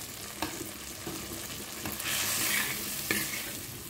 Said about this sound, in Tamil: சிம்மில் வச்சு அப்படியே மெதுக்காக வதக்கி விட்டுட்டுருக்குறோம்